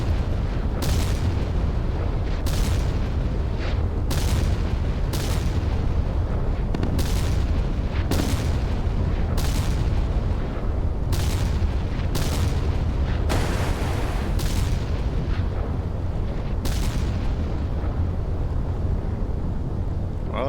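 A carrier being sunk in the naval combat game Sea Power: a long string of heavy booming explosions, a dozen or so sharp blasts at irregular intervals over a constant low rumble, with no talk.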